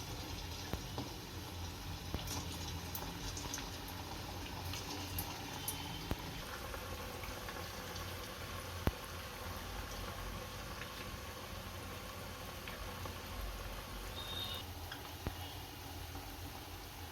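Potato snack pieces frying in hot oil in a home kitchen, a steady bubbling sizzle with scattered crackles running throughout, close and fairly quiet, with no talking.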